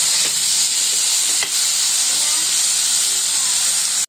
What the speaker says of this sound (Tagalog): Gisi-gisihon ang kamatay.